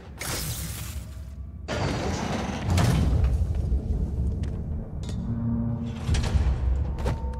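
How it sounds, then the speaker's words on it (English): A trap door in Marvel's Spider-Man Remastered grinds and slides open, with a heavy mechanical rumble, clunks and a bright metallic scrape, loud and close over continuous game ambience. "Trap door."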